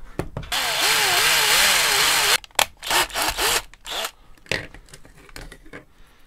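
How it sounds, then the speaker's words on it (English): A step drill bores holes into a plastic PS4 controller shell, giving a loud, close whine that wavers for about two seconds, followed by short bursts of drilling and scraping. "So I've got this step drill which should be able to give us that size hole. So let's get drilling."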